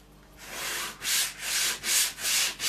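Rhythmic back-and-forth sanding strokes on an MDF frame, scraping off paint, about five loud rasping passes in steady succession, close up and without speech.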